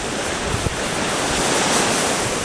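Ocean waves crash against a rock wall at Lanikai Beach, a loud, continuous roar of surf mixed with wind noise on the microphone, with no voices.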